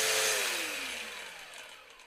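A Grosser GAG 120N cordless brushless angle grinder with a disc fitted winds down smoothly after being switched off at third speed, its loud high whine falling steadily in pitch and fading over two seconds without an abrupt stop.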